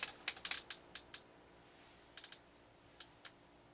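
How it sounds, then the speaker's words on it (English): Quiet keyboard typing: a quick burst of clicking keystrokes, a pause, then a few scattered taps, close and soft. "Yes, I'm typing in my password again."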